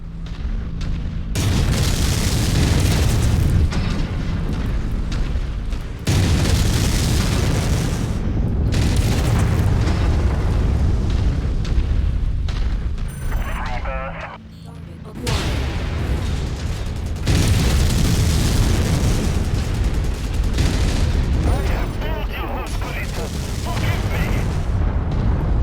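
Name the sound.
explosions destroying artillery emplacement in MechWarrior video game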